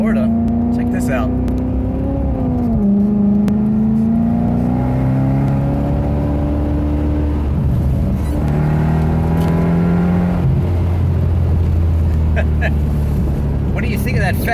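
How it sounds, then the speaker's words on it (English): A Maserati coupe with a Fab Speed exhaust drives along, its engine droning loudly with rising and falling revs and gear changes, voices talking over the steady exhaust note. "What do you think of that Fab Speed exhaust?"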